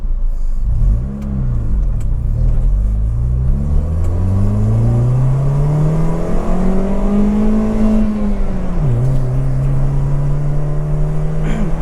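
A 2002 Hyundai Accent Viva engine runs and pulls away, rising and falling in pitch through revs and gear changes, loud and close with a steady rumble underneath.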